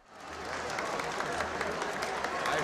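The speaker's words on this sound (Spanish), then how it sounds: "Cuando entró, la ovación fue interminable." Sustained applause from a large crowd at the United Nations welcomes Pope John Paul II, swelling in quickly and holding as a dense, steady roar of clapping.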